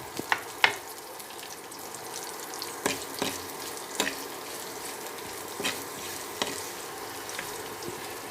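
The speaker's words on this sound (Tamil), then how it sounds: "இப்போ வெட்டின வெங்காயம் அதையும் சேர்த்து வதக்கணும்." Chopped onions sautéing in oil inside a new clay pot on an infrared cooker at low heat, a soft sizzle under sharp intermittent clicks and scrapes of stirring, fairly quiet and close, no voices.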